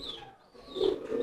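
A pigeon coos close by, a soft low throaty call that swells toward the end of a brief phrase, clear and alone.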